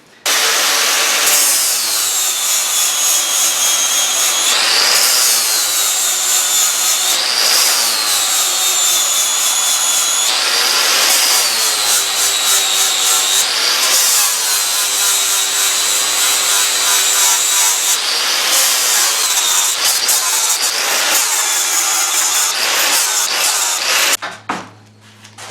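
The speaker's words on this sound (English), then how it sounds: "I'm using a flap disc. I've always been using a flap disc because I don't want to go too fast." A flap disc grinds across the steel of a large 471 lb anvil during restoration, a loud continuous abrasive whine rising and falling in repeated passes for about 24 seconds, then cutting off abruptly at the end.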